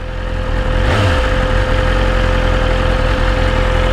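A 2023 S1000RR superbike engine runs nearby, loud and steady, as a constant throbbing drone with a faint rise near the start.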